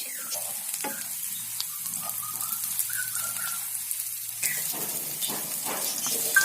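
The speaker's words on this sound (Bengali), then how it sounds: "এক চা চামচ আস্ত পাঁচফোড়ন দিয়ে দিব এখন দিয়ে দেবে এক চা চামচ রসুন কুচি ওগুলো একটু গরম করে ভেজে নিব" Whole panch phoron and chopped garlic frying in hot oil for a plum pickle, a close, crackling sizzle with sharp pops and a brief stir midway, no voices.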